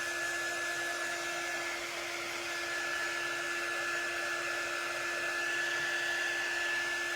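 A hair dryer blows continuously on wet paint on a craft project. Its airy rush is steady and unbroken, with a constant whine running through it, and there is no talking.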